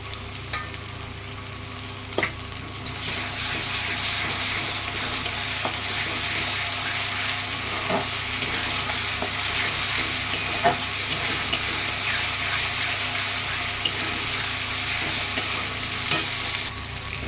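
Ginger-garlic paste sizzling with fried onion paste in a pan for a mutton and new potato curry, a steady close frying hiss that jumps louder after a few seconds, with occasional clinks of a stirring spoon.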